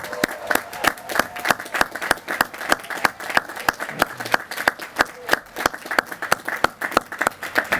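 A commencement crowd at a law school ceremony applauds a Professor of the Year, giving steady rhythmic clapping with distinct individual claps standing out, moderately loud and continuous throughout.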